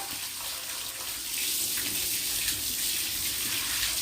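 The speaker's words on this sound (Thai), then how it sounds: "น้ำไหลมาแล้วนะน้ำไหลมาแล้วว้า" Water gushing and running steadily, a continuous broad rushing flow that swells slightly partway through and stays close and constant throughout.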